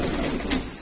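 A single brief, soft coo from a Bateray pigeon, fairly close against a low background murmur.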